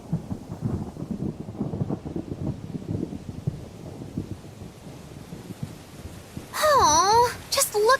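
Thunderstorm rumble and steady rain from the Tales of Berseria video game, a low broadband wash of storm noise for several seconds before a voice speaks over the end.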